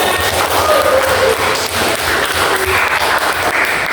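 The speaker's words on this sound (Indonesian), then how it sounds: "Ya masih tepuk tangan" A classroom of eleventh-grade students claps together, producing loud, close, continuous clapping with a few taps and thumps and brief voices mixed in.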